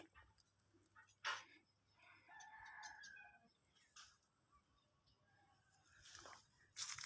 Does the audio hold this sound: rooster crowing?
yes